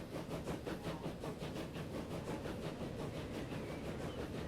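A train runs steadily in the Transport Fever 2 video game, a faint rhythmic rumble with regular clattering pulses repeating evenly throughout.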